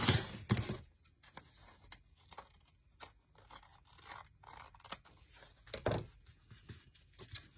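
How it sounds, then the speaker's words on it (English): Scissors snip and trim the bottom edge of paper sheets for a handmade no-sew mini junk journal, a few crisp close cuts with soft paper rustling and handling sounds in between, no talking. "I'm going to trim off the bottom"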